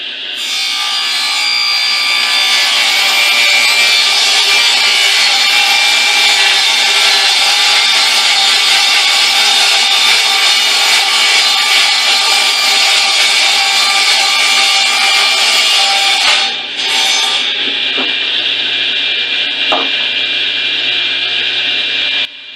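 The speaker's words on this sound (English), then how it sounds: "I'll start by cutting out the back from some scrap 1/2-inch plywood." A power saw roars steadily through 1/2-inch plywood for a long stretch, close and loud, then the blade winds down near the end.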